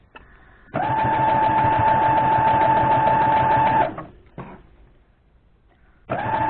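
A sewing machine stitches Dresden Plate quilt blocks, giving a steady, close mechanical whir for about three seconds, then a brief short burst, and a fresh run starting at the end, with no talk.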